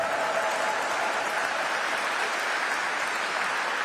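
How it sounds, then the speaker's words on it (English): Audience applause at a talk by Finnerty fills the room, a steady dense wash of clapping from many hands, moderately loud and continuous with no voices over it. "I'm sure you're clapping because I'm the last speaker."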